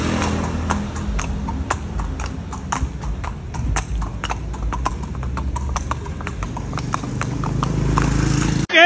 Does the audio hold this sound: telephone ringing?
no